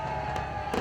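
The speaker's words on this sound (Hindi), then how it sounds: "रात 12 बजते ही शानदार आतिशबाज़ी के साथ साल 2023 को खुशामदीद कहा गया।" New Year fireworks over Lahore at midnight, heard as a continuous distant rumble with a couple of sharper bursts popping through the wash of noise.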